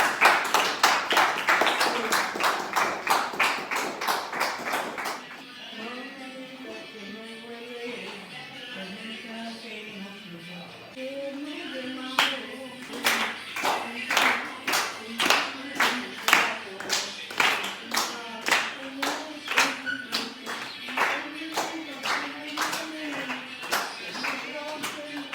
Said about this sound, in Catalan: Un aplaudiment molt fort